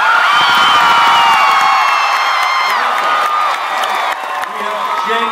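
A studio audience at an X Factor taping in Austin screams and cheers loudly, a dense crowd roar of whoops and shrieks that slowly fades.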